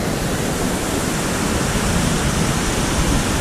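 Waterfall on a boat tour along Brazil's Peninsula de Maraú, a loud, steady roar of falling water heard up close with no break or variation.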